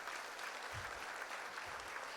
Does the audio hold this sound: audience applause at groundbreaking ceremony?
yes